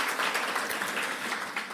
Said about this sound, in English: I think you deserve a round of applause for that.